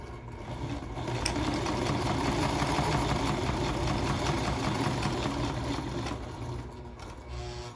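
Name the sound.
sewing machine stitching a backpack-style bag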